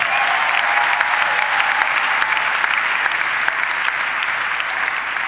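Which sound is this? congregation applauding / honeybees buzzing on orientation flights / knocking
congregation applauding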